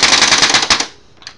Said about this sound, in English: I want to just dry fire this